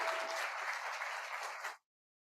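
An audience at a school's State of the School address applauding as a speaker is welcomed onto the stage, with dense continuous clapping that holds steady for under two seconds, then cuts off abruptly into silence.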